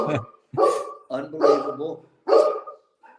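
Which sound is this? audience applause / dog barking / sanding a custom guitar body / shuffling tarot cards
dog barking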